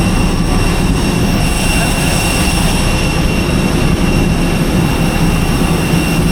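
Airplane engine roaring steadily and loud from start to finish, a constant broadband drone with faint voices underneath, heard on a trip to Palawan.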